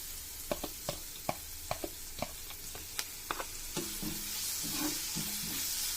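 Onions and other ingredients sauté in a pan for a crab omelette, a soft sizzle under a string of sharp spoon taps against the pan that give way to scraping stirs near the end.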